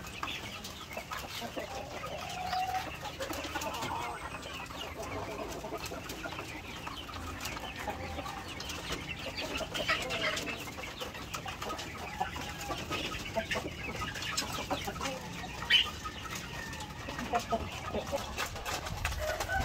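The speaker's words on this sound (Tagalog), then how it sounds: "So ito yung white leghorn natin mga ka-farmers." White leghorn chickens on a farm cluck faintly under a dense wash of background noise, with someone talking over the scene.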